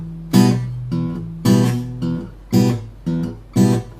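Acoustic guitar in Travis picking style, palm muted, alternating a bass note with a chord on the top three strings, seven even plucked hits in a steady bass-chord rhythm, close and clean.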